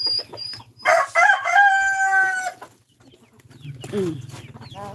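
Chicks and chickens cluck and chirp at feeding time, with a rooster crowing loudly and nearby, then softer rhythmic clucking and bird calls close to the listener.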